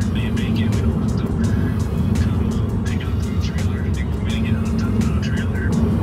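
Steady, loud road and drivetrain rumble inside a Tesla Model 3 accelerating hard up a hill, a continuous droning hum with faint talk traces layered above.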